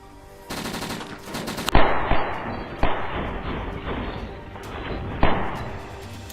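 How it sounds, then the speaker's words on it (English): Gunfire is exchanged in a firefight, with a rapid automatic burst followed by several loud separate shots and thuds over a rumbling background, close and with no talking. "We exchange fire."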